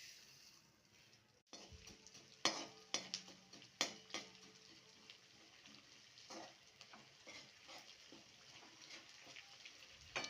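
Edible gum (dink) roasts in a pan for ladoo, a soft steady sizzle with scattered sharp ticks and pops as the pieces puff, close and quiet.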